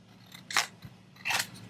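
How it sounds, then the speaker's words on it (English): Two crisp scissor snips cut through a paper master board, one early and one near the end, close and fairly quiet with a soft tap between them. "Let's see what happens when we cut it in half."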